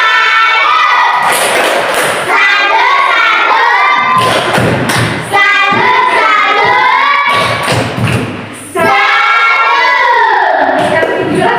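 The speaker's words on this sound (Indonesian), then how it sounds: "Oke, tepuk salut untuk kalian semua." Schoolchildren in a classroom clap and cheer loudly in several rhythmic bursts, with shouting voices and thumping claps and short pauses between bursts.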